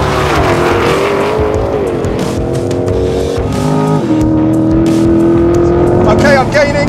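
A C8 Corvette Z51 and a Mustang Shelby GT500 racing, with loud, close engine drone rising and falling through gear changes, sustained wind and road noise, and a climbing rev toward the end.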